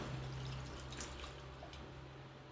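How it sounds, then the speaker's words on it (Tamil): Water poured from a small tumbler into a pot of mixed mutton for biryani, a soft, steady trickle and splash lasting a couple of seconds, faint and close with no talking. "இந்த ஸ்டேஜில் நான் ஒரு 3/4 டம்ளர் அளவுக்கு தண்ணி ஊற்ற போகிறேன்."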